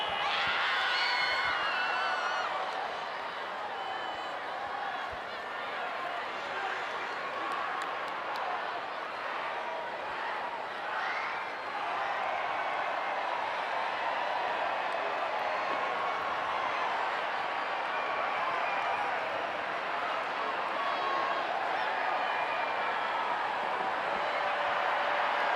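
A stadium crowd at a women's rugby World Cup semi-final between New Zealand and France makes a broad, sustained roar of cheering that holds steadily throughout, with a commentator's voice talking over it.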